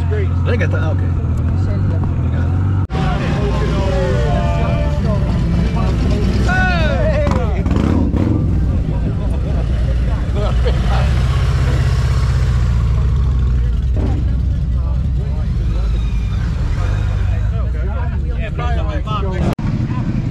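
A Ducati motorcycle engine runs steadily and loud throughout, with wind buffeting on the microphone and people talking over it.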